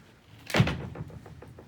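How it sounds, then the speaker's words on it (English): A front door swings shut with a single solid thud, close by and moderately loud, followed by a faint rattle as it settles. "So I just walked in the front door. It's 30-some degrees here, so I closed it behind me."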